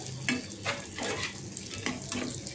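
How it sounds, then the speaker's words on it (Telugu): Bread pieces sizzle in a pan on medium heat for double ka meetha, with a steady close frying hiss and a few soft stirring scrapes. "కాస్త బ్రౌనిష్ కలర్ వచ్చేంత వరకు వేయించుకోండి"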